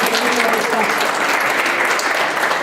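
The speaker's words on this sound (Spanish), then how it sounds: "le voy a pedir un fuerte aplauso para ella" Dense, steady applause from a conference audience, loud and continuous throughout without a break.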